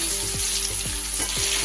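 Thin-sliced potatoes frying in hot oil with turmeric for a light hilsa fish curry, a steady loud sizzle with a few soft scraping stirs, close up and with no talking.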